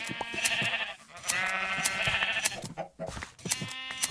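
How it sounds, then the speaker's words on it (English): Minecraft sheep in the Galacticraft modpack bleat repeatedly as they are sheared with shears, several loud, nasal bleats following one another in quick succession with brief pauses between. "Just walk up and shear all these sheep."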